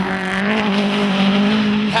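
Rally car at Oulton Park circuit sliding sideways off the start, a loud close engine drone with a steady tonal pitch and tyre noise, sustained throughout the short burst.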